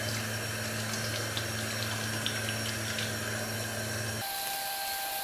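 A sink tap runs steadily while a face is being rinsed, giving a constant close splashing hiss of flowing water under a low hum, with a brief shift in tone near the end.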